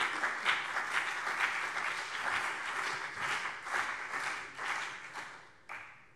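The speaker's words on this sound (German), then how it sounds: "Applaus" Applause in the Hessian state parliament during a plenary session: many hands clap in a steady, moderately distant patter that swells and eases in waves, then drops off sharply near the end with a final few claps.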